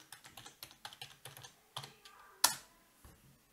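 Quick, irregular keystrokes on a computer keyboard while a root password is entered during a MariaDB database install, with one sharper click near the end, close and fairly quiet with no voices.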